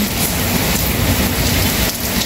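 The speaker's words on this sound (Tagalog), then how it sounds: "Malakas ang hangin, malakas ang ulan." Heavy rain pours steadily in a dense, loud roar during a storm in Saudi Arabia, with gusting wind adding a broad rushing noise throughout.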